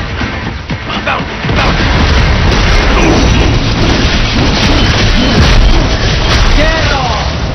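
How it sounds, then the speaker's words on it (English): RPG rocket explosions in the Metal Gear Rising Revengeance game boom and rumble loudly and continuously, with voices heard through the blasts. "Enemy sighted! Bullseye! Firing RPG!"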